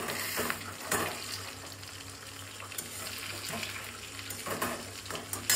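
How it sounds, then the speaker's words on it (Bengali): Topse fish coated in a batter of flour, egg, black salt, black pepper and baking soda deep-fry in oil, giving a faint, continuous crackling sizzle with a few sharper pops and splashes. "তোপসে মাছগুলো ডুবে ডুবে ভাজছি"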